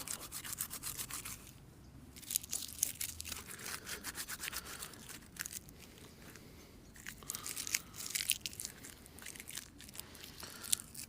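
A wet firelighter being crunched up by hand outdoors, rough crackling and crumbling bursts coming in irregular clusters, close and fairly quiet, with no voices.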